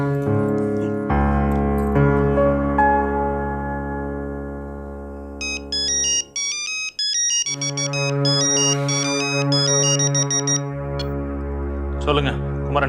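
A telephone rings in a domestic scene with a melodic electronic ringtone, bright repeating tones that cut in and out over a sustained musical background.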